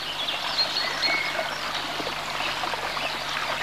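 A steady stream trickles and burbles continuously, close by, with a bright watery wash and no voices.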